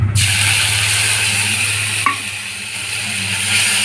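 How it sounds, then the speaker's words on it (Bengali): Spices sauté in hot oil in a pan for chana dal: ginger paste, green chili paste, cumin, coriander, turmeric and asafoetida over a tempering of cardamom and cloves. A steady, loud, close sizzle runs throughout, with a brief stirring scrape midway. "হিং দিয়ে ভালো করে মশলাটা কষে নেবো"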